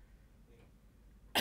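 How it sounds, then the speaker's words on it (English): A single short cough bursts out abruptly at the very end after near silence, close and loud, with a throat-clearing quality. "Sorry for the coughing."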